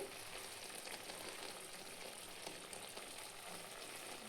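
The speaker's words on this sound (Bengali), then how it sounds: "আর এখানে কাঁকড়া ভাজাও বসিয়ে দিয়েছি, এগুলো হয়ে এসেছে।" Crab frying in a pan on a home cooking stove, a steady, soft, continuous sizzle and crackle with no voices, even in level from start to finish.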